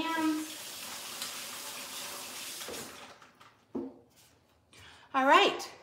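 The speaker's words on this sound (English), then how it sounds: "Okay, rinse my hands." Water runs from a kitchen tap as hands are rinsed, a steady close hiss for about three seconds. It stops, then short bursts of splashing and handling noises follow while a person speaks.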